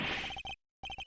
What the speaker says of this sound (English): His phone is ringing from somewhere, sir.